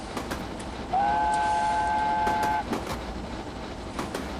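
A Train Simulator locomotive on a Sodor mountain route enters a tunnel, giving one steady whistle-like horn tone of about a second and a half over continuous rumbling rail noise and faint wheel clatter.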